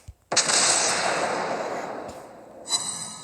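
The secondary battery guns of the German battlecruiser Prinz Eitel Friedrich fire in World of Warships Blitz. A loud, booming volley rings out and fades slowly, and another sharp report follows near the end.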